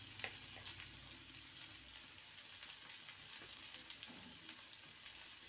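A medium onion, finely chopped, fries in a pan toward golden brown, giving a soft, continuous hiss of oil with a few light crackles, quiet and steady throughout.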